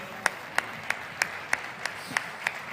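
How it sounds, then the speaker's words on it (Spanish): Quiet, evenly spaced claps, about three per second, ring out in a steady rhythm to welcome a city mayor at the Second World Summit on Circular Economy in Córdoba. "Recibimos con un fuerte aplauso al señor Martín Yarlora."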